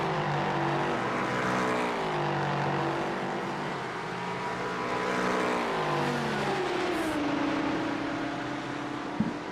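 Porsche Cup race cars lapping Laguna Seca Raceway during a four-hour endurance race, engines droning and rising and falling in pitch as they accelerate, downshift and pass at a distance.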